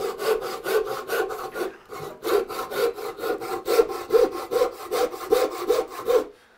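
A hand saw cuts down a marked line in a wooden board with brisk, regular rasping strokes, close and loud, a brief pause near the start and then steady back-and-forth rhythm to the end.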